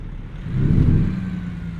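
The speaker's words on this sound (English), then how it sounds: "let's rev the engine and test the sound." A truck engine in American Truck Simulator revs once, a low rumble swelling and then easing back to a steady idle hum, close and alone with no talk.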